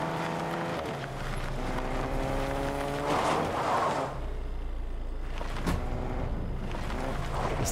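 A car in the Fortnite video game drives steadily, its engine a continuous hum that rises and falls in pitch as it speeds up and eases off, with no talking.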